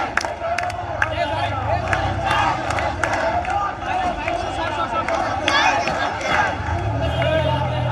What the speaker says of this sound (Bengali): রাস্তা ব্লকেট দিয়ে তারা স্লোগান দিতেছে, বিচার বিচার বিচার চাই